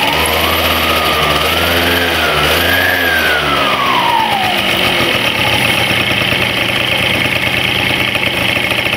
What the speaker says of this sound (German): aber ich gebe mal Gas, dann könnt ihr sehen, das ist alles verhältnismäßig normal